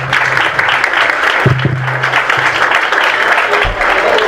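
An audience at a Spanish-language talk claps together in a dense, steady burst of applause that fills the whole moment, with a low hum underneath.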